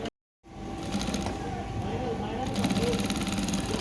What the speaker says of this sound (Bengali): সেলাই হইতেছে না?